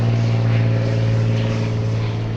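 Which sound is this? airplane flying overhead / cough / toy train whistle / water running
airplane flying overhead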